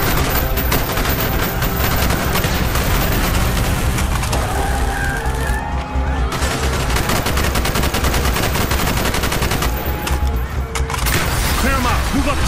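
Rapid automatic gunfire rattles loudly and almost without pause during a street fight in the Call of Duty: Black Ops Bay of Pigs mission in Cuba, with bursts overlapping and shouted voices under the shooting.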